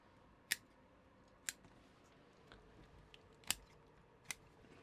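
Pruning shears snip branches off a larch bonsai, giving about four crisp, sharp cuts spaced a second or so apart against a quiet background.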